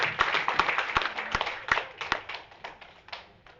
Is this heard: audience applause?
yes